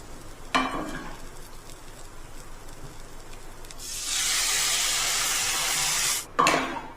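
Hot water hits a heated wok, bursting into a loud, broad hiss that holds for a couple of seconds before cutting off, with a few clanks at either end of the pour.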